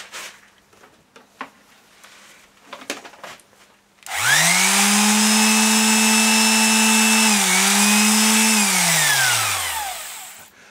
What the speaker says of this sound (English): I'm just going to use a little reciprocating sander, hand sander, just to take that off